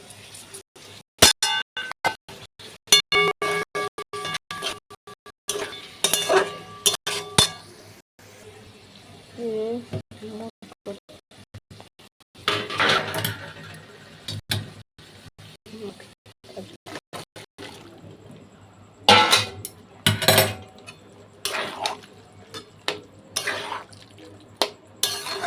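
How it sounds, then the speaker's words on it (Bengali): Water splashes and clinks into a pot of vegetarian ghugni with dried peas, in bursts among clattering utensils and dishware, with intermittent talking over the kitchen sounds. "জলটা আমি এটা দিয়ে দেবো এখন।"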